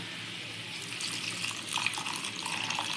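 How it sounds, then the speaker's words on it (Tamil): Steady pouring water, a broad wash of liquid splashing into a cooking pan while making a dried small prawn gravy, continuous and close throughout. "கொஞ்சமாக தண்ணி ஆட் பண்ணிக்கோங்க"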